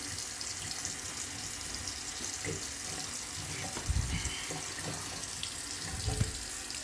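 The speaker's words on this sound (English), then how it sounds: "And I will need to turn off the faucet." Water from a faucet runs steadily into a sink in a skills lab, a continuous broadband splash heard close and fairly loud, with a few faint clunks partway through and no clear speech.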